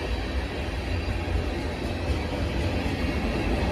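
A train led by a locomotive painted in Erie-Lackawanna colors rolls past close by, giving a continuous loud rumble of wheels and railcars with steady noise throughout.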